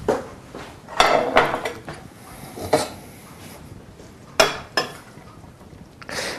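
Clattering kitchen noises as a plate is taken out while making a low protein vegetable bolognaise: several sharp knocks and clinks of crockery and a cupboard, spaced irregularly, close and fairly loud, with no talking.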